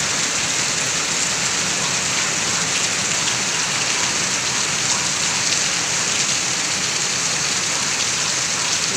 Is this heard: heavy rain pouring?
yes